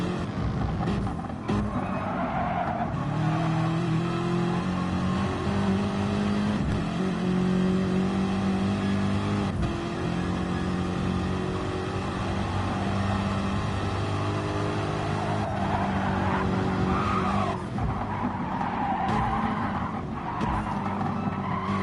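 A Honda NSX GT3 race car in a GT3 racing video game holds a loud, steady engine drone with shifting revs, while tire skids and squeals run through the whole stretch and no voices break in.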